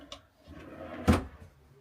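A handmade wooden drawer in an Iveco Daily campervan is opened or closed. A soft slide is followed by one sharp wooden knock near the end, close by and fairly quiet.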